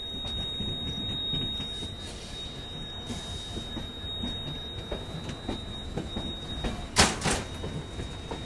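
An Asarwa–Jaipur Express train runs on ahead on the Rajasthan line, a steady rumble of rolling stock with faint wheel squeals and a sharper clank near the end, no talking.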